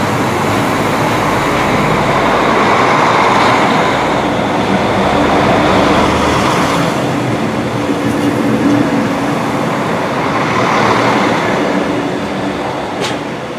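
An O-Train Line 2 service made of two coupled Line 4 sets runs toward Bayview, a loud continuous rumble and wheel roar that swells and eases over many seconds, with faint clicks near the end.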